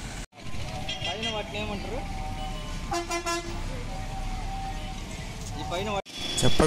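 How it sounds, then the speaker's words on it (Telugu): A bus on the Kalahasti to Tirumala route rolls in, its horn tooting several times in short bursts over a running engine, with people talking nearby. "అదిగో చూడండి ఎలా ఉంది బస్సు వచ్చేసి."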